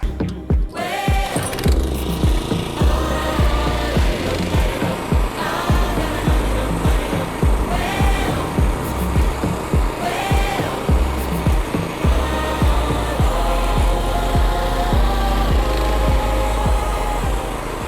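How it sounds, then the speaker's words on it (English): A California Trimmer manual reel mower cuts through a lawn, giving a steady, continuous whirring and clattering of spinning blades with a rhythmic pulse from the pushing, close and fairly loud throughout with no talk. "All right, let's get to mowing."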